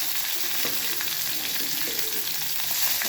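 Mustard seeds, curry leaves, a chilli and onion fry in hot oil in a pan for a beans dish, a steady close sizzle with light crackles and stirring, no talking.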